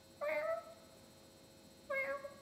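A voice imitates a cat's meow twice, two short nasal mews separated by a pause, close and clear against a quiet background.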